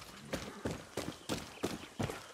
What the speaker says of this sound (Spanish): Es un caballo normal.